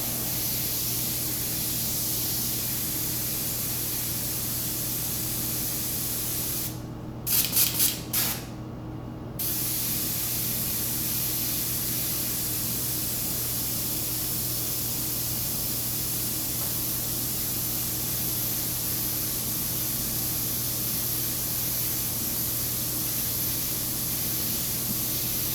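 An airbrush sprays paint in a continuous loud steady hiss with a brief break of a few short puffs midway, then the even spray resumes.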